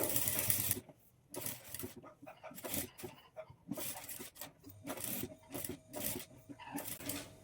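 Domestic sewing machine stitching a net-cloth overlay along the top-stitched scalloped boat neck of a blouse, heard as repeated bursts of rapid mechanical whirring separated by short pauses, fairly close.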